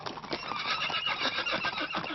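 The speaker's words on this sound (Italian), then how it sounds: "L'uso del cavallo per visitare questi ambienti è sempre più diffuso in Sardegna" A horse in Sardinia neighs in a long, shrill, continuous whinny, loud and close, with no talk over it.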